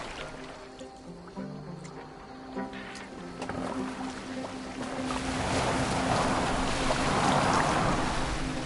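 A boat glides across water in Assassin's Creed Valhalla, a low steady wash of water and wind that swells louder toward the end, with faint game music tones underneath.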